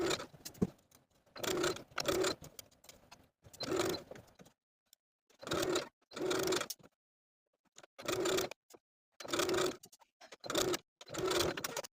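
A sewing machine stitches in the ditch of a seam binding on a gathered neck ruffle blouse, running in repeated short bursts of close, steady whirring separated by brief pauses.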